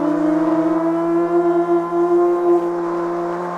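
A car engine revs in the CarX Street racing game with a deep, full-bodied tone and steady layered harmonics. The engine note wavers slightly in loudness and stays loud and up close, with no voices.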